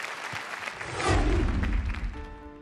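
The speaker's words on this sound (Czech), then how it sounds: "To stojí za potlesk." Audience applause at a beauty pageant evening, a burst of clapping swelling and holding loud for a couple of seconds, with a low thud near the start and a faint tone at the end.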